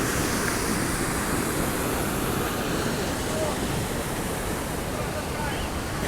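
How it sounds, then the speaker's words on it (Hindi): A forceful waterfall in Kundalika Valley at Tamhini Ghat, Maharashtra, roaring as a dense, continuous broadband rush of crashing water, loud and close throughout with some wind buffeting the microphone. "काफ़ी बढ़िया फोर्स है पानी का और उस तरफ से पानी आ रहा है आगे से"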